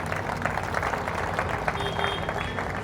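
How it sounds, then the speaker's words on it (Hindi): A seated audience at an outdoor Hindi public speech event claps together in a dense, continuous burst of applause that holds steady for a few seconds. "अपने लिए ताली बजाइए।"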